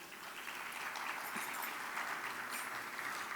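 Quiet, steady applause from guests at a city boards and commissions appreciation luncheon, heard faint and distant as an even wash of clapping with no talk.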